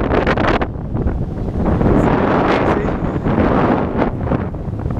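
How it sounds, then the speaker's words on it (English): Loud, continuous wind buffets the microphone with roaring gusts, drowning out everything else for the whole stretch. "It's so windy."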